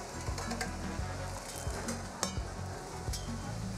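Coffee sauce for pork ribs bubbles and sizzles as it reduces in a pan, a steady, close frying crackle with occasional soft clinks of a utensil, no one talking.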